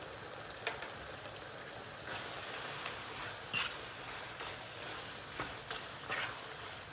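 A chicken dish boils in a pot, giving a steady bubbling hiss with scattered soft pops. The sound is close and continuous, and no one speaks.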